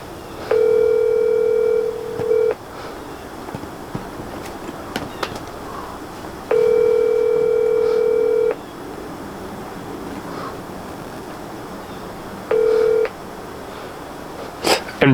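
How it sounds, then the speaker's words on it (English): A phone call is placed during an early ice fishing trip. Three telephone tones sound close and clear, two long and one short, separated by quiet gaps with scattered faint clicks. "let me make a phone call real quick"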